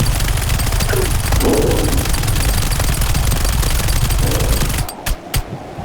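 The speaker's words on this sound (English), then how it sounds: "This is supposed to be a one-shot kill gun." Rapid, dense gunfire from a one-shot kill gun mod in the zombie survival game 7 Days to Die, a loud continuous volley lasting several seconds before cutting off into a few scattered bursts.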